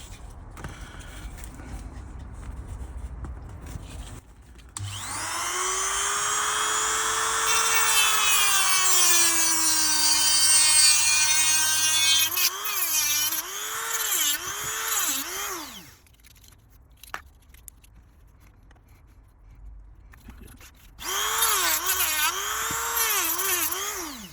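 A power tool cuts into the plastic body of a Corgi HO diecast Blackpool Balloon tram to remove the motor, giving a loud, high whining burst that swoops in pitch, then shorter wavering bursts after brief pauses.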